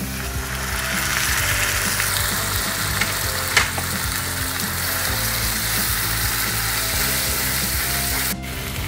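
Grated tomatoes hiss into a pan of sautéing onions and capsicum for Mumbai street-style pav bhaji, a steady close sizzle with clicking stirring sounds and a brief clatter midway.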